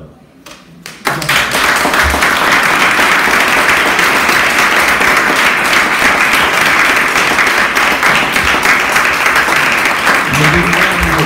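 An audience breaks into loud, sustained applause after a quiet moment, many hands clapping steadily and densely, with occasional voices mixed in near the end.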